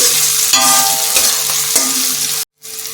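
Onion, garlic and ginger fry in oil for a Bengali-style chicken kosha curry, giving a loud, steady sizzle broken by a few stirring scrapes, then a sudden brief silence before the frying resumes.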